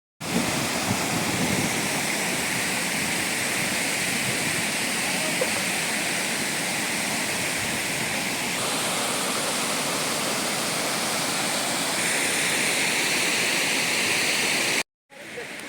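Pedabayalu waterfall near Hukumpeta pours in a dense, steady roar of rushing water, loud and unbroken for about fifteen seconds.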